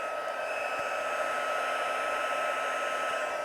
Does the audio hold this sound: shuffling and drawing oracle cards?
no